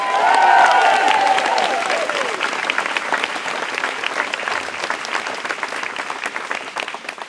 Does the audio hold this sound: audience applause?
yes